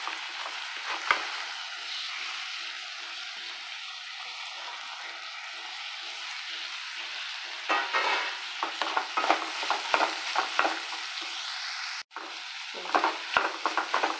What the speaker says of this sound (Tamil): அந்த கட் பண்ணி வச்ச காயெல்லாம் போட்டுடலாம்.